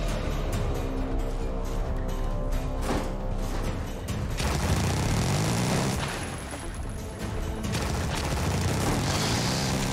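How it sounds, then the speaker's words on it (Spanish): Rapid machine-gun fire from a creature in the video game Carrion rattles continuously and loudly, dense bursts stacked over booming game sound, with no voices. "mola bastante el sonido de la ametralladora del bicho este"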